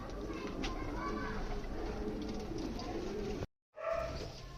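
Soft, repeated coos from pigeons at a breeding setup murmur over a busy background hum, fairly faint and steady, with a brief dropout near the end.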